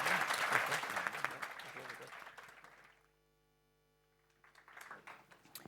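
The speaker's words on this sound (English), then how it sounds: "please give me a warm round of applause for all of our speakers" Applause at a gambling-harm conference session, with a warm crowd clapping that fades to near silence, then returns more faintly with voices mixed in.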